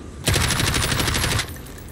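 A single sustained burst of rapid automatic gunfire in a video game, loud and close, with evenly spaced shots lasting just over a second before cutting off.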